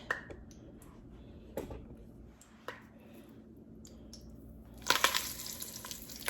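Flour-coated pieces of steak sear in a hot pan with soft crackling and scattered sharp pops and clatters, building to a louder burst of sizzling near the end.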